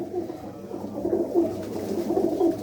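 Pigeons coo in soft, repeated low throaty calls, a few overlapping phrases close by, with no talk.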